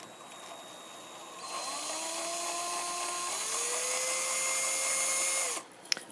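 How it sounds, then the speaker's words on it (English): A power drill bores into a plastic Transformers toy during customization, a rising whine that starts after a second and a half, holds steady and climbs in pitch, then cuts off near the end followed by a small click. "I'm being careful not to drill through my finger"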